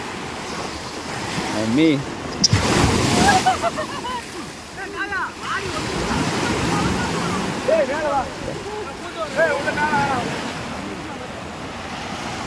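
Sea waves surge and wash at Chennai's Marina beach amid gusty wind noise, with children and adults calling and talking over the surf.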